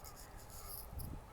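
Crows cawing in Shinjuku park in spring, several harsh repeated calls at a moderate distance over faint ambient park noise, no talking.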